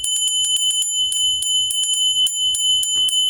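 Rapid, somewhat uneven strikes on a heavy-walled Japanese gokore Buddhist bell rung with small motions, sometimes in quick doubles, giving close, bright, short percussive rings.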